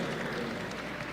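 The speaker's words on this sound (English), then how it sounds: "get a round of applause for this man" A studio audience applauds a Modern Warfare 3 developer, a brief, dense burst of many hands clapping with a faint crowd murmur beneath.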